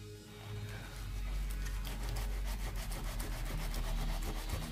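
Close, continuous rubbing scrapes glue off a handmade bookmark card for several seconds, a steady rasping friction over faint background hum.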